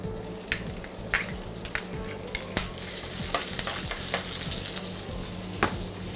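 Pork belly frying in red chili oil crackles and sizzles up close, punctuated by repeated sharp spatula scrapes and taps against the pan.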